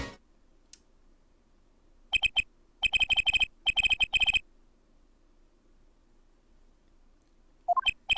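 Cell phone electronic ringtone in the courtroom game Apollo Justice: Ace Attorney, bursts of rapid high beeping tones in repeated clusters, clear and alone against near silence.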